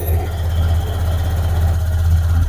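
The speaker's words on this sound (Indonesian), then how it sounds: "Oke, motor sudah hidup." A Honda Scoopy scooter engine idles just after starting, a steady low throbbing rumble close to the microphone that stays even for the whole stretch.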